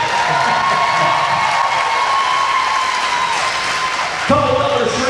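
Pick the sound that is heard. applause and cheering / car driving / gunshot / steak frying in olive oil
applause and cheering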